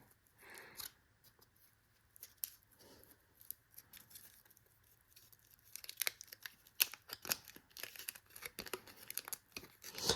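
Aluminum foil packaging from an SRU-16/P military surplus parachute survival kit is torn open, with crinkly ripping bursts that start sparse and grow louder and busier toward the end, with no talking.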